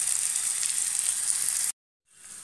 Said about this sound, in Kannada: ಅದಕ್ಕೆ 1-2 ಸ್ಪೂನ್ ತೆಂಗಿನೆಣ್ಣೆ ಹಾಕಿದ್ದೇನೆ ಮತ್ತು 1 ಗಡ್ಡೆ ಈರುಳ್ಳಿಯನ್ನು ಹಾಕಿದ್ದೇನೆ